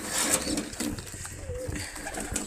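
Imported high-flying pigeons and their young coo softly nearby amid rustling and shuffling, with a low continuous murmur throughout.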